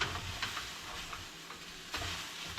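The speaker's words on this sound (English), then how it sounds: "this is fried oatmeal" Oatmeal frying in a pan gives a steady, close sizzle with a couple of faint stirring clicks, even and continuous throughout.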